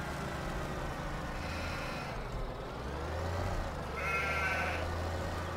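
Sheep in the Farming Simulator 17 video game bleating, a couple of drawn-out wavering calls in sequence over a steady low engine rumble from farm vehicles.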